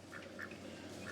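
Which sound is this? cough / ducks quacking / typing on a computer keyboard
ducks quacking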